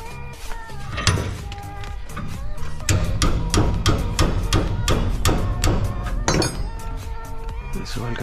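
Hammer blows striking metal held in a vise in a workshop, a steady series of sharp, loud ringing clanks repeating at a quick pace, with some talk mixed in.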